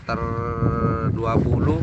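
Cattle bellow in a long, loud moo at a Madurese karapan sapi bull-race field, heard close by over steady wind noise and a low rumble of outdoor background.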